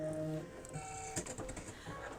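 Embroidery machine stitching slowly with metallic thread through a metallic needle, a faint close mechanical whirring with soft rhythmic needle ticks and a brief tonal whine, alone.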